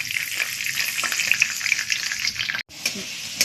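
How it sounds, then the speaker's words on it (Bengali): Vegetables such as carrot and beans fry in oil in a kadai, a steady close hiss and sizzle with light stirring scrapes and one brief break. "প্রত্যেকটা সবজি এমনি করে লাল লাল করে ভেজে তুলে নেব।"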